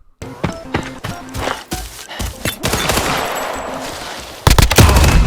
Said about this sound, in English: That was a bolt action Timmy!